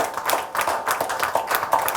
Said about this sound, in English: I would urge everyone to give a huge round of applause today for Ms. Vidya Balan